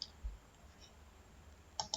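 A computer mouse is clicked on a Go Live button while coding, producing a couple of faint, sharp clicks near the start and end over quiet background hiss.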